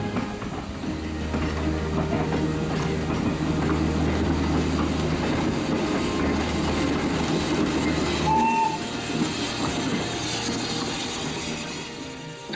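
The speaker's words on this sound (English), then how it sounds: "And we do have a steam engine." A steam locomotive train at the East Anglian Railway Museum, Chappel, rumbles past with a steady clatter and heavy low roar, a brief high tone sounding near the end as the noise slowly fades.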